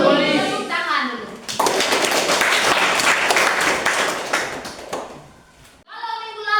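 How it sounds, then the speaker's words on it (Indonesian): Applause from a group, likely including children, in a classroom or church lesson: a dense, steady burst of clapping lasting several seconds, framed by a voice speaking before and after. "Tepuk tangan dulu."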